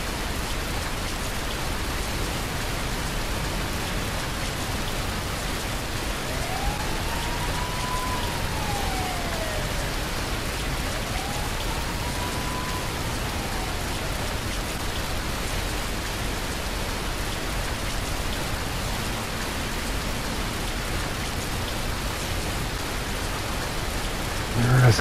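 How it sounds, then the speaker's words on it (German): Rain falls steadily over Amsterdam in Fernbus Simulator, a constant broadband hiss for the whole stretch. A faint rising and falling tone drifts through briefly in the middle, and the sound swells slightly at the very end. "Ah, es regnet natürlich, das ist scheiße"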